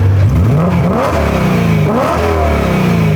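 A BMW engine with an Eventuri carbon intake revs hard and loud with exhaust valves open, its deep exhaust roar rising and falling in pitch through two strong pulls, continuous and close.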